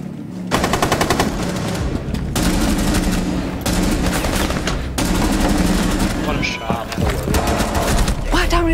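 Loud, rapid video-game gunfire rattles in long sustained bursts with only brief gaps, while players talk excitedly over the shooting.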